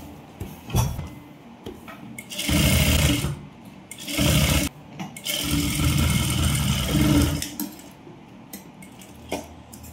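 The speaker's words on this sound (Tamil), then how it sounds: "இப்போ சுத்தி தையல் போட்டுக்கிடுவோம்." A sewing machine stitching the silk lining of a girl's skirt, running in three loud whirring bursts of a few seconds each, separated by short pauses filled with fabric handling, close up and without talk.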